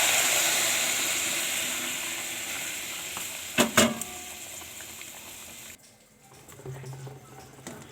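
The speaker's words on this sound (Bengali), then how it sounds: "তরকারিটা ফুটছে।" A fish curry of fried potatoes with Kashmiri red chilli powder, just covered with hot water, bubbles with a close, steady hiss. A couple of sharp clinks come near the middle, then the sound drops quieter and softer.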